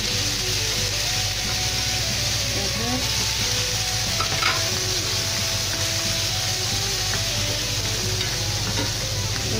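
Champignon mushrooms frying in a hot pan for a vegetable lasagne, a loud, continuous close sizzle with steady stirring scrapes throughout and no talk.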